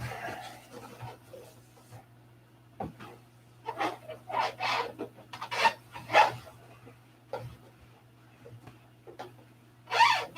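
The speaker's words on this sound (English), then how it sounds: "I keep sanding and keep rubbing" Sandpaper loaded with dirt rubs and rasps against a bone in irregular scraping strokes, some bursts louder and closer, over a steady low hum with no talk.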